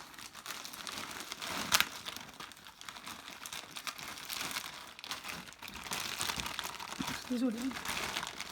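Plastic packaging from a discount-store haul crinkles and rustles in soft, intermittent bursts as it is pulled open up close, with one sharper crackle and a brief spoken word.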